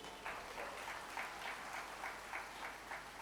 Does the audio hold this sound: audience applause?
yes